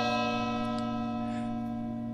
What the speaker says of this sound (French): entendez du coup la cloche qui semble résonner.